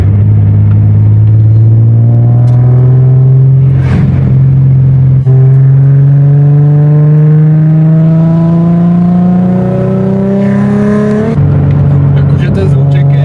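A Nissan 350Z engine drones loudly and close as it pulls through the revs, its pitch climbing steadily, dropping back after a gear change, then rising again.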